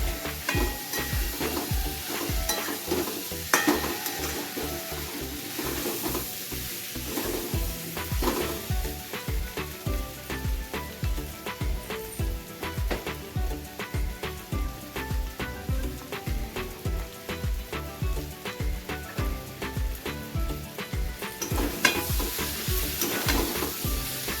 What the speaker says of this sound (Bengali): ভেজে রাখা আলুগুলো আর আলুটাকে মশলার সাথে একটু ভালো করে ভেজে নেব কষিয়ে নেব দু থেকে তিন মিনিট